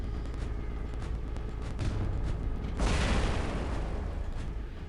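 A trebuchet weapon in War Robots fires with a sudden loud whooshing blast that rises out of lighter mechanical game sounds and then slowly trails away.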